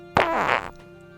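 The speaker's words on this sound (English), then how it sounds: "How is he still farting when he's dead?" A cartoonish fart sound effect bursts out loud and alone, a single drawn-out rasping blast of about half a second that trails off, set in a comedy sketch.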